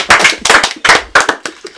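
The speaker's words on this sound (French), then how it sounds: "pourquoi je m'applaudis moi-même?" A man claps by himself, several sharp, close, loud hand claps in an uneven rhythm, with brief gaps between the bursts.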